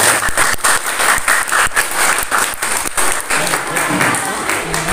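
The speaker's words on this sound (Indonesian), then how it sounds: "tepuk tangan dulu buat Miftahul Ulum." A large audience of vocational high school students claps at a Maulid Nabi commemoration, a dense, steady wash of applause that fills all five seconds with loud, unbroken clapping.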